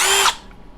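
A Milwaukee cordless drill from a drill and impact driver combo kit, with a single short high-pitched whir close up that spins down and stops after a fraction of a second.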